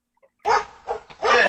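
A dog barks at a UPS delivery driver dropping off a package, giving three loud, close barks in quick succession after a moment of quiet.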